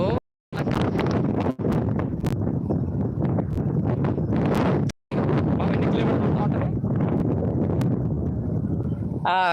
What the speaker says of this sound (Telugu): డెబ్బై ఎనభై కిలోమీటర్ల వేగంతో గాలి తోలుతుంది